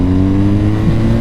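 A motorcycle engine revving up toward 5000 RPM while riding, a steady loud mid-low engine drone with a slight upward pitch shift over about a second, close up and with no talking.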